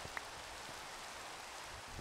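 Rain falling in Minecraft, a steady even patter of hissing droplets with no pauses, soft and continuous throughout.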